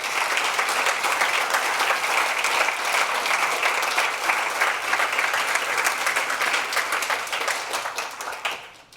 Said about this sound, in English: can we have a big round of applause for the trustees?